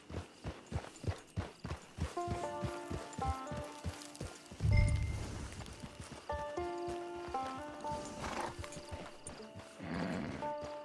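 In Red Dead Redemption 2, a horse's hooves clip-clop in a steady rhythm, with a low snort partway through over soft game music.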